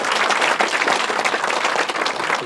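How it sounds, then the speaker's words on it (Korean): An audience at a town hall meeting in Jochiwon-eup, Sejong City, breaks into steady applause, a dense wash of clapping hands that holds evenly for a couple of seconds. "우리 박수 한번 쳐줄까요?"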